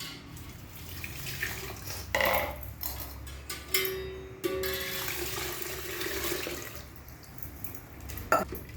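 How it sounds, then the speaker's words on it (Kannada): Water runs and splashes into a pot of rasam, making a soft, steady trickle with a few brief sloshes as it is mixed. The sound stays fairly faint throughout. "ಈಗ ನೀರು ಬೆರೆಸ್ತೀನಿ"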